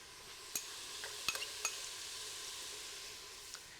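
Garlic sizzles in a pan for a Thai chicken curry, a steady close frying hiss broken by a few sharp clicks and taps of a utensil against the pan.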